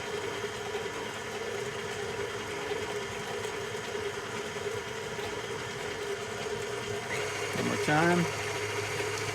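An electric mixer creams butter and sugar with a steady, droning motor hum at moderate loudness. A person talks over it, and a brief louder clatter comes near the end.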